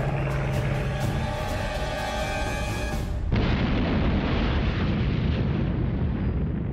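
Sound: bomb explosion on USS Arizona, documentary effect

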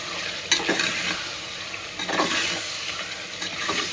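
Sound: stirring green chili, ginger garlic paste, mint, coriander with mutton

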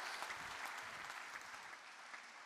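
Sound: audience applause after a church message

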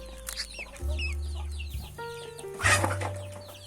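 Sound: ducklings peeping

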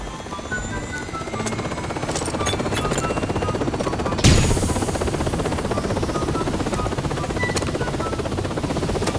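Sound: helicopter noise in video game Arena Break

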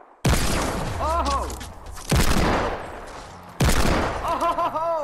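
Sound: hand cannon gunfire in Fortnite Battle Royale video game

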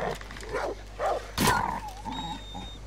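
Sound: dog in Far Cry New Dawn video game

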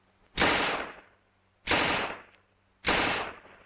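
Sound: Tommy gun firing, WW2 training film

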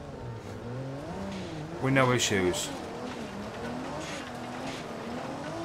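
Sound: BMW M140i driving in video game BeamNG.drive

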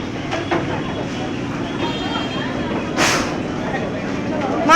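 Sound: train at station

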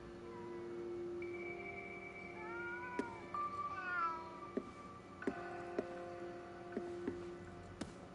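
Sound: cats meowing in the video game Ghostwire: Tokyo

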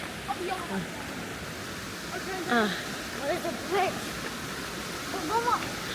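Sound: mountain stream flowing

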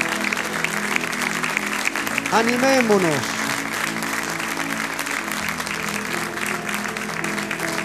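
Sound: church congregation applause

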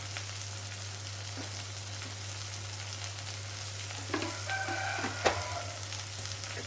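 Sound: spices roasting and stirred in oil in a pan

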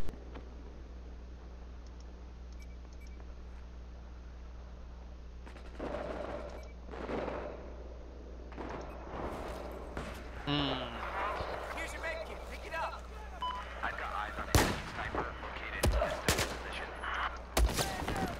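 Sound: gunfire from a video game

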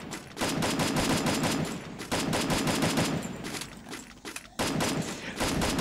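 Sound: Thompson submachine gun firing in a video game

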